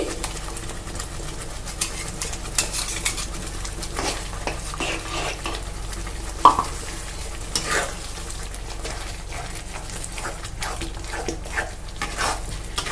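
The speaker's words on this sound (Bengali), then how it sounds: "এবার আমি এতে আমাদের যে বাটা মশলাটা ছিল সেই বাটা মশলাটা কিন্তু দিয়ে দিচ্ছি" Ground spice paste sizzles and spatters in a pan with cooked-down onion-tomato paste for a dhaba-style chicken curry, steady frying crackle under repeated stirring scrapes, with faint bird calls in the background.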